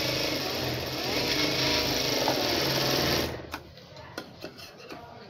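A sewing machine runs steadily for about three seconds while stitching a lined blouse, then stops, leaving a few light clicks and taps afterward.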